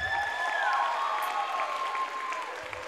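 An audience at a school reading-project opening claps for an eighth-grade student, a steady, fairly close round of applause filling the moment without any talk.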